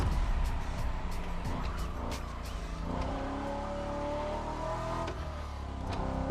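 A car in the racing video game The Crew Motorfest accelerates hard toward top speed, its engine climbing in pitch with a rising whine and tire noise, loud and continuous.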